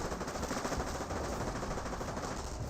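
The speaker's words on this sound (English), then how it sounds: "MG42 here. I haven't seen this MG42 fire. Yep, it is firing." MG42 machine gun in Company of Heroes firing a continuous rapid burst, a dense, steady rattle that fills the whole moment at moderate loudness.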